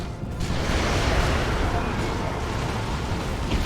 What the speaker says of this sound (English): There's a psych out grenade.